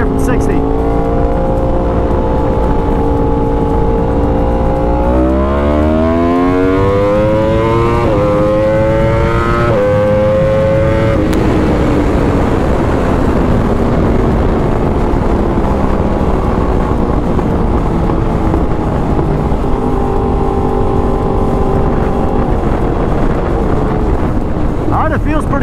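A 2016 Yamaha R1 motorcycle accelerates hard in second gear from 60, the engine note climbing loud and steady through a long pull. Strong wind noise runs throughout and a voice speaks briefly.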